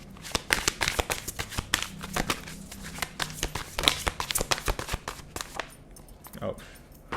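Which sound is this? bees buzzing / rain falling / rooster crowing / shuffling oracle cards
shuffling oracle cards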